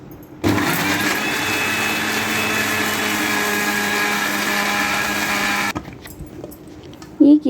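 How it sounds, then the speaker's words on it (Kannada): An electric mixer jar whirs steadily as it blends cream into a paste for homemade ghee. The motor runs loud and continuous for about five seconds, then stops abruptly, leaving faint handling noises and a brief knock. "ಆದರೆ ಈಸಿ ಆಗುತ್ತೆ ಅಂದ್ಬಿಟ್ಟು ನಾನು ಜಾರಲ್ಲಿ ಬ್ಲೆಂಡ್ ಮಾಡ್ತಿದ್ದೀನಿ"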